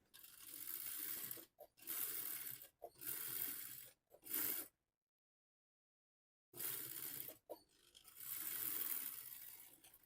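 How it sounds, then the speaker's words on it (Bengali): A sewing machine stitches scrap fabric for a child's frock, running in several steady, whirring bursts. There is a clear silent gap partway through, and the stitching is close and even, with no voices. "এখন আমরা এখান থেকে একটা চিকন করে একটা চাপ সেলাই দিয়ে নেবো"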